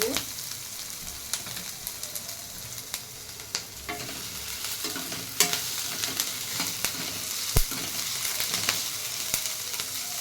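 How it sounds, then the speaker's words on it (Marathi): Onion sautéing in a pan with curry leaves while preparing a Maharashtrian kurdai bhaji, a steady close sizzle with scattered stirring clicks and scrapes running throughout, no one speaking. "कांदा आता परतला आहे बऱ्यापैकी अजून दोन मिनटं परतू"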